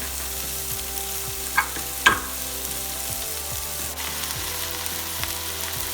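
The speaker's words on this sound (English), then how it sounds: "Start with cooking oil, garlic, ginger and shallot in a frying pan." Onion stir frying in a pan of cooking oil with garlic, ginger and shallot, a steady close sizzle running throughout with a couple of sharp clinks from stirring, no voices.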